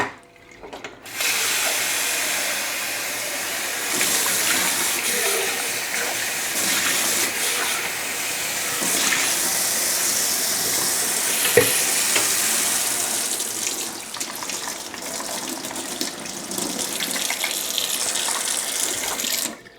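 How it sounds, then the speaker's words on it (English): The dirty water tank of a Dyson WashG1 hard floor cleaner is rinsed under a running tap, a steady loud rush of splashing water lasting many seconds with small clunks of the plastic tank and no speech. "remove the dirty water tank and to empty this and just give it a really good rinse out"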